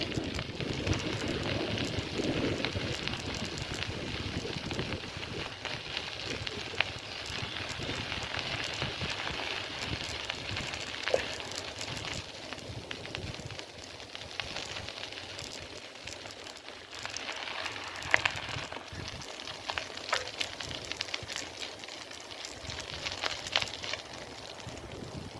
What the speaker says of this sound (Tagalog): Lumakas ang ambon.